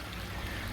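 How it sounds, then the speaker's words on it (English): Water runs steadily into a backyard garden pond of about 36,000 gallons, fed by a small waterfall, as a continuous close, even rushing hiss. "And so water running down to our little pool there."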